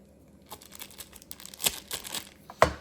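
Plastic vacuum packaging around a beef tenderloin being torn open by hand, a soft crinkling rip building over a few seconds and ending in one sharp, close tearing burst.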